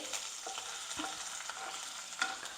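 Sliced garlic and ginger sautéing in hot oil in a wok for restaurant-style noodles, a steady soft sizzle with scattered stirring scrapes and a small louder clatter near the end, close and alone with no talking.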